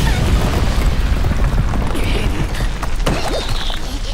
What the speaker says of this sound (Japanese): なんだあれ、爆発したぞ。